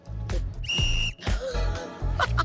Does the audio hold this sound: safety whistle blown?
yes